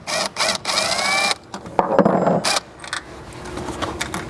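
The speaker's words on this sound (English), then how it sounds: "I hear our impact kind of laboring a little bit" Impact driver on the front of a 2nd-gen Chevy Colorado truck bed backing out a rib nut in sheet metal: short bursts of loud, buzzing hammering separated by pauses, ending in a few lighter clicks and rattles.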